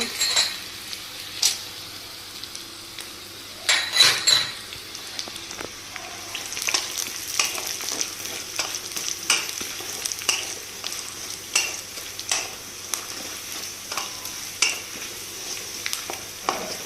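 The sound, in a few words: peanuts poured into pan and fried with onions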